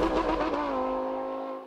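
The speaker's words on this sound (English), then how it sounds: "The Huracan not only sounds like a race car, but it accelerates like one too." A Lamborghini Huracan V10 supercar engine holds a loud, sustained rev that settles into a steady high drone, close and clear with no talk over it.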